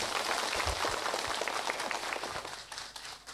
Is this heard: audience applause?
yes